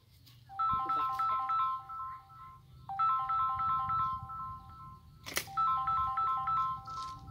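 A mobile phone rings with an incoming call outdoors, playing a repeating melodic ringtone in three bursts with short pauses between, against faint background noise and a brief knock.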